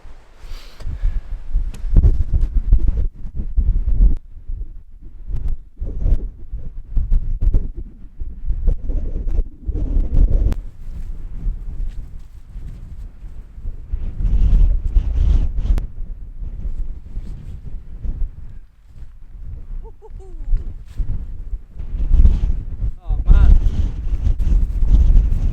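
Wind gusting over snowy winter hills near shepherd's huts, buffeting the microphone in rough low rumbling bursts that rise and fall in waves, loud and close throughout.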